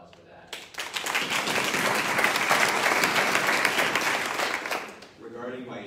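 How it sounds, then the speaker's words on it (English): Audience at a school board candidate forum breaks into applause, a dense round of clapping that swells in after a brief pause, holds steady for several seconds, then tapers as a voice resumes. "all of you deserve a round of applause for that."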